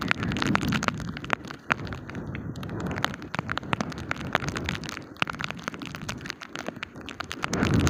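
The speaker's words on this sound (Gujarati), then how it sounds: "હજી સંપૂર્ણ વરસાદ બંધ થયો જ નહીં થોડા થોડા સાંટા ચાલુ જ છે" Light rain patters nearby in a village after a heavy downpour, with scattered sharp drops tapping irregularly over a soft steady hiss.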